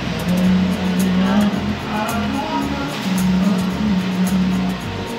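A steady low droning hum from a worn axle bearing on a moving Isuzu Crosswind, with road and tire noise rumbling underneath, continuous and fairly loud.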